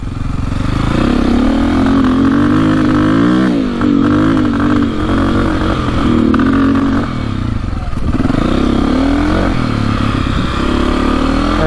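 Engine of a KTM 450 dirt bike running poorly and low on power, held at loud, close, continuous high revs that bounce against the rev limiter with wavering pitch and rattling clatter.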